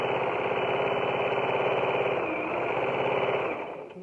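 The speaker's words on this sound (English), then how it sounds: "You're just sewing that right across and sewing that down." A sewing machine stitches fabric for a fur-trimmed Santa dish towel. It gives a steady, close mechanical whir with a fine rhythmic chatter, then slows and winds down at the end.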